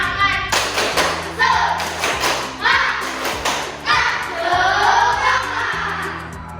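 A group of children chants and claps together in a steady rhythm for a classroom clapping cheer, with repeated sharp claps and thumps over energetic voices.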